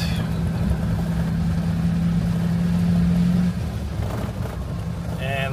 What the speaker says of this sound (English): Now that the gate is opened and I am driving in towards the campsite.